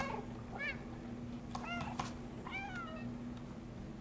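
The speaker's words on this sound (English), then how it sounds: "Are you supposed to meow and make him distracted or something?" Several short, soft meows from the cat in the video game Stray, spaced a second or so apart, playing faintly over a steady low electronic hum.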